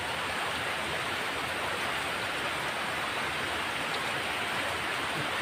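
Steady rain falling outdoors, a constant broadband hiss with no breaks, moderately loud and uninterrupted, with no voices over it.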